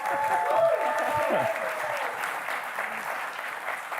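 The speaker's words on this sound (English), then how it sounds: "if we can give them a round of applause" A festival audience applauding steadily, a dense wash of clapping that swells early then holds at an even level, with a voice briefly speaking over it.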